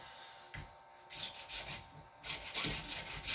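A hacksaw cuts through PVC pipe with rough rasping back-and-forth strokes, a few slow pushes followed by quicker rhythmic sawing, close and moderately loud.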